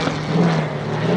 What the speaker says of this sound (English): You can hear him gunning the throttle there